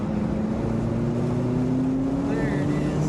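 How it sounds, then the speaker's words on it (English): Car engine revving and accelerating smoothly through a seven-speed gearbox, a steady rising drone with engine pitch climbing, close and loud, with brief voices under it. "Do you want to hear that engine again?"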